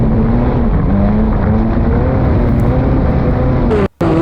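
A race car engine laps a speedway on a private test, a loud, steady droning roar holding near-constant pitch with slight rises and dips, then a brief cut near the end before the roar resumes.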